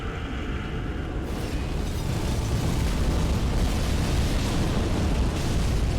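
The Fire Breath spell erupting in Dark Souls III: a loud, continuous roaring blast of flame that fills the whole moment, dense and unbroken, with a slight surge in intensity after the first second.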